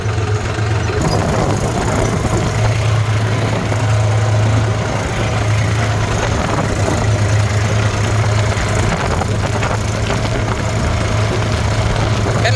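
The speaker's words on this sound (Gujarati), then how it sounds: "અને હવે આપણે ટ્રેક્ટર જવા દેવા છે" Tractor engine running in a field during maize sowing with autosteering, a steady low idling drone with a strong hum that persists unchanged throughout, close and fairly loud.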